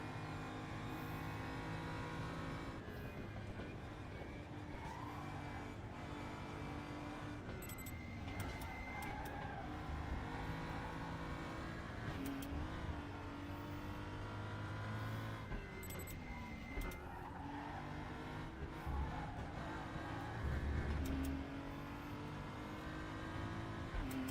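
A touring car engine in RaceRoom revs steadily for the whole stretch, its pitch rising and falling with the throttle. There are brief harsh peaks where the revs climb high, and no voice is heard.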